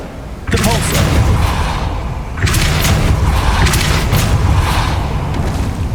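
A Depulso spell is cast in Hogwarts Legacy, bursting out as a loud booming blast. A second heavy thump follows about two seconds later, with dense rumbling game noise in between.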